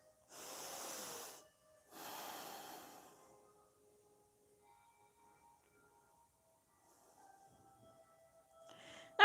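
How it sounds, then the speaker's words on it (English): Two slow, close nasal breaths drawn in and out during a yoga session, soft and airy, followed by near silence and a faint voice starting at the end. "Breathing through your nose."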